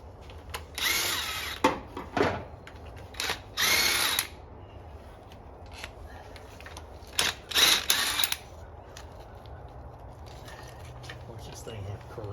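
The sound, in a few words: impact wrench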